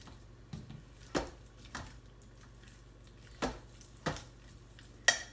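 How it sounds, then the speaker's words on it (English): A spoon stirs beef stroganoff in a crock pot, giving sparse soft clinks and knocks against the pot with quiet wet squelches between, close and fairly faint. "stirring all of that around with my beef."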